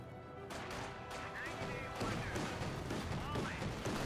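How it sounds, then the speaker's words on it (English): S-mines detonating in the video game Company of Heroes 2, a few sharp blasts and crackling bursts over a busy battlefield din of gunfire, fairly quiet in the mix. "Here's some S-mines detonating."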